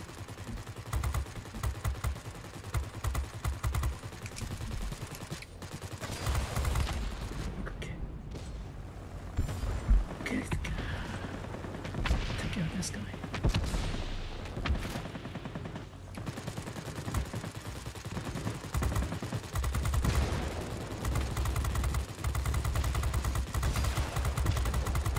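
Aircraft machine guns fire in long, dense bursts in the World of Warplanes flight game, a continuous loud rattle with brief pauses over engine drone.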